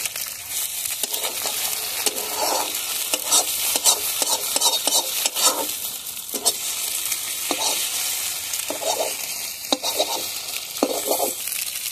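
Two eggs sizzle and fry in hot oil in a wok while a utensil stirs and scrapes them in steady, repeated strokes, close and moderately loud with no talking.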